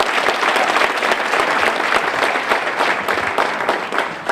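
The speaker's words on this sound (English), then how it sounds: "give them a tremendous round of applause" A large audience in South Africa, on its feet, gives a loud, sustained round of applause, dense clapping filling the space steadily from start to finish.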